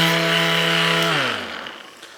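Festool cordless sander held close to a surface, heard near and loud with a steady whine that spins down and fades away, with no talking.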